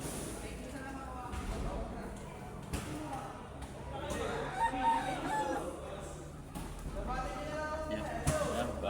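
Pet gamecock rooster crowing close by, a drawn-out cock-a-doodle-doo rising over background clucking and someone talking.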